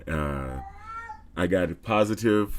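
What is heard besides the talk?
cat meowing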